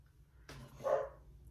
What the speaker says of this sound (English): my dogs are outside, so if they're barking, I'm sorry